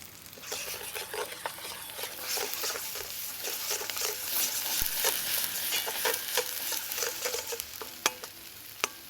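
Turmeric and chilli frying in a pan for a balti curry, giving a soft continuous sizzle with frequent light spoon scrapes and stirs, close and fairly quiet, with no talking.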